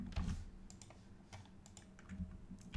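Computer keyboard keys clatter in a quick, irregular burst of close taps and clicks while text is being copied, alone with no voice over them.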